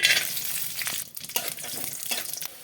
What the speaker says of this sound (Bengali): দিয়ে দেবো সর্ষের তেল বাদামটা ভেজে নেব